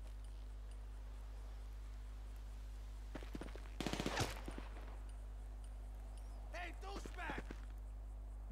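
Gunfire in GTA V, a rapid burst of automatic shots in the middle followed by a few scattered, fainter shots later, set against a low steady hum, with occasional speech.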